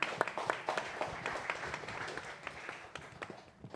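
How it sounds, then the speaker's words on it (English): An audience at a startup pitching forum applauds a presenter, a steady patter of many hands clapping, fairly faint and distant, holding for a few seconds. "Let's give Sloan another round of applause."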